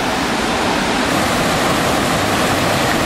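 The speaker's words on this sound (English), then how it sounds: "Little water source." River water rushes steadily beside a campsite in Linville Gorge, a dense, even broadband roar close by with no pauses and no voices.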